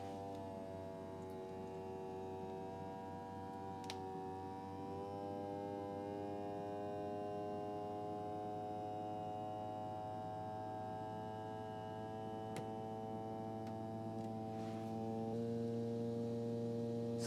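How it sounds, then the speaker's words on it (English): A vacuum sealer drawing the air out of a bag of dehydrated banana chips hums steadily and close, a constant motor drone that shifts slightly in pitch near the end. "So this is sucking all the air out, which also does the same as, like an oxygen absorber."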